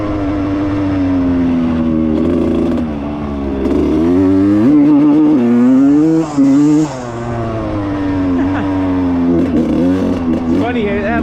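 A 1995 Suzuki RM125 dirt bike, running badly and hitting an early rev limit, revs repeatedly with its loud, close engine pitch rising and falling in uneven surges.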